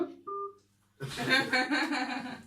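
Brief telephone dialing tones sound at the opening of a radio phone line, two short electronic beeps, followed by a burst of busy, noisy line audio with some voice-like sound.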